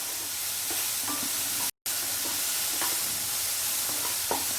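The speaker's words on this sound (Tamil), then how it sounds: "இது ஒரு ஃபியூ செகண்ட்ஸ் வதக்கிக்கலாம்." Onions and sauces sauté in a pan for chilli egg, a steady close sizzle with soft scraping stirs, broken once by a brief moment of silence.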